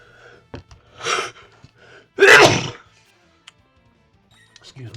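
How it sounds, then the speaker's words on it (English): A single loud sneeze bursts out after some faint speech and breathing, followed by quiet room noise and a little rustling, while a Final Fantasy VI PC game session runs in the background. "Gonna sneeze."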